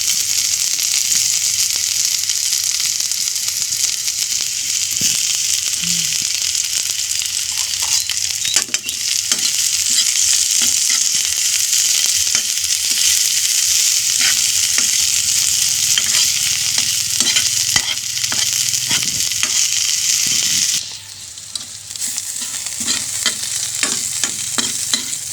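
Garlic hits hot cooking oil in a pan and sizzles loudly and steadily, with occasional stirring scrapes and clinks running through, briefly dipping near the end before the hiss resumes.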